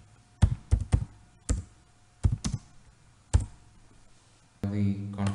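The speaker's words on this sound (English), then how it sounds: "Then type the command install" Keys on a computer keyboard click in short bursts of typing, quiet and close, with pauses between clusters of taps before a voice begins speaking.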